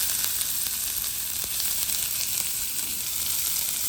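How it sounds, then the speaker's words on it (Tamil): Onion fries in hot oil with mustard seeds and cumin for kundu dosa sambal, giving a steady, even sizzling hiss with light crackles throughout and no voices. "வெங்காயத்தை போட போகிறேன்."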